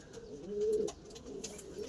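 A pet pigeon gives a single soft, low coo, close and brief, in a quiet room.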